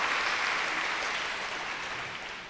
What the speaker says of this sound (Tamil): ஒரு கைதட்டு கொடுத்து நீங்கள் அவரை வரவேற்று கேட்டுக்கொள்ளுங்கள்